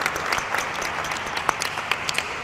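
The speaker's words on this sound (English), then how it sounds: "One quick round of applause for all these females up here" An audience at an art talk with artists applauds, a dense steady patter of many hands with a few sharper claps standing out, no voices over it.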